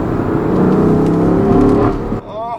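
A 2016 BMW M3 with dual-clutch transmission, mid-pipe and tune, accelerating hard in third gear through a corner: a loud, sustained rising engine drone that drops off near the end, with a voice speaking faintly at the close.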